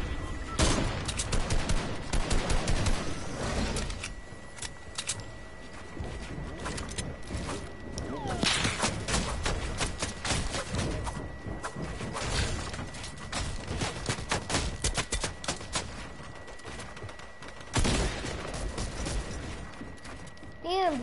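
Video game gunfire in a duos match, with repeated bursts of rapid shots and scattered single cracks across about twenty seconds, some loud and close, with players talking over the action.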